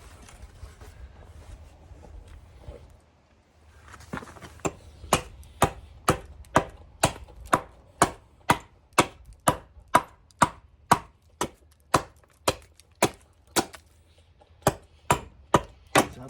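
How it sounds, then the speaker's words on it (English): Rapid, evenly spaced axe strikes chop into a hard wood knot in a confined space, about twenty sharp, loud chops after a quiet start, with no talk. "chopping through the the hard knot here in a confined space"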